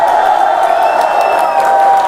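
A large crowd at a political speech in Santos keeps up a continuous, loud wall of clapping and cheering that holds at a steady level without a break.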